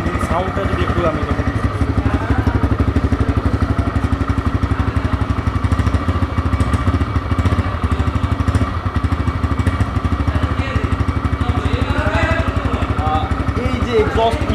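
A TVS Raider 125 motorcycle idles close by, its engine and exhaust giving a steady, rapid low putter that holds evenly throughout, with someone talking over it.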